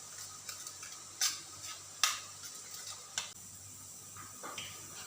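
Spoon stirring dahi bhalla fulkiyan as they fry in oil, with a low steady sizzle and a few sharp metallic scrapes and clinks spaced through, no talking.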